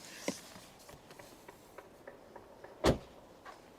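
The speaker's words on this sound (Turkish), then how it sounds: "Evet aracı şu an kitleyecek araç kendini" A Tesla locks itself automatically as its owner walks away: one brief, sharp mechanical clunk stands out against quiet outdoor ambience, with a few faint ticks scattered before and after.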